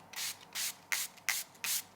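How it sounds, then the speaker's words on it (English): A makeup setting spray mist is pumped onto a face in five quick, evenly spaced hissing bursts, each one short and close, with quiet gaps between them. "let's shake this setting spray now. Okay, I just want to spray this on"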